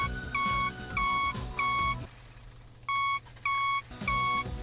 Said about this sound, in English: I don't know why it's making that beeping noise.